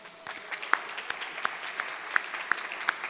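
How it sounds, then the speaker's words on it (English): Scattered, distinct claps from a modest audience at Valley Presbyterian's annual Celebration of Excellence, fairly quiet and evenly spaced with a faint background hum. "So let's give yourself all a round of applause."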